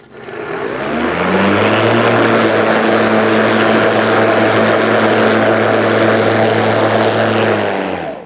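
A Ryobi 36V brushless battery lawn mower cuts thick Kikuyu grass with a loud, steady motor whine that ramps up over the first second, then holds a constant pitch, with no voices.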